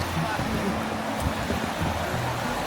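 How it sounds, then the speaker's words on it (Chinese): A small stream flows with a steady broadband rush and gurgle, fairly loud and close. Faint voices murmur underneath. "我们来到了这边的一条小溪"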